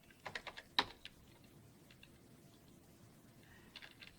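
Several quick clicks and taps of typing on a computer keyboard, one sharp keystroke standing out, then a pause before a short second flurry of keys, quiet and close.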